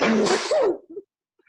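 A single loud, close sneeze, followed by a brief quiet exhale.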